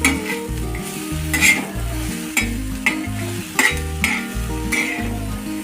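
A spatula stirs dry-roasting masala with salt in a pan, scraping in repeated strokes with soft sizzling beneath, close and fairly loud, with no talking.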